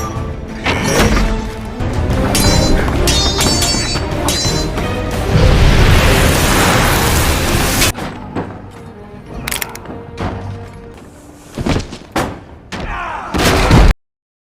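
Pirate ship cannons bombard a seaside town in a film, loud booming blasts and crashing impacts layered over dense music, followed by scattered heavy thuds and bangs.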